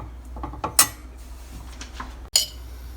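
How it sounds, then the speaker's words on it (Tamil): Kitchen stove being switched on while making lemon rice: a few sharp clicks and a brief creak of the knob, two brighter snaps standing out against a quiet background. "அடுப்பை ஆன் பண்ணிட்டேன்."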